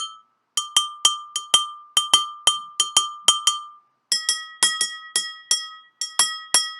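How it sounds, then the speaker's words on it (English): Glasses holding water, struck with a knife to make a bright ringing chime. Each tap rings briefly at a clear pitch, in quick irregular runs of strikes, and a second glass at a higher pitch joins later. "Let's see if I tap it with a knife."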